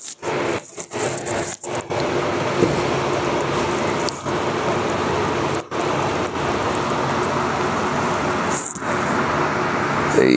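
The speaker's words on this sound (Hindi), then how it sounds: "यहाँ पे शोर मचा रहा है ये पंखा।" A noisy electric fan running close by, giving a steady broadband whoosh throughout, broken by a few brief knocks and dropouts, with no speech.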